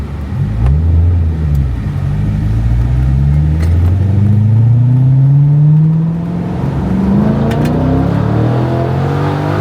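An LS3 C6 Corvette with straight-piped exhaust roars loudly and close as it accelerates. The pitch climbs through a gear, drops at a shift, then climbs again. No voices are heard.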